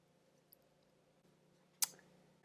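A single sharp computer mouse click lands near the end of a quiet stretch with a faint steady hum, alone and close.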